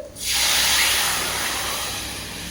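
Tempering spices hit hot oil in a pan of kadhi with a sudden loud sizzling hiss that swells fast, then keeps up as a steady, close crackle, slowly easing but still strong at the end.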